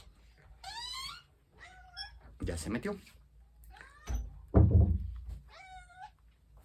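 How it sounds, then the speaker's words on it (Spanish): A female house cat meows repeatedly at a door, several rising, drawn-out cries spaced across the scene, with a couple of thumps between them as someone speaks briefly nearby. "Me está maullando."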